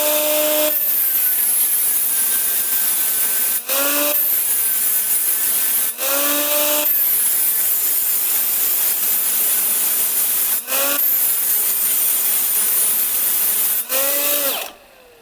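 A Stromo AGA 150 cordless mini angle grinder cuts threaded rod, its high whine loud and close, broken by short dips and pitch sweeps as it spins down and back up several times, with no voices.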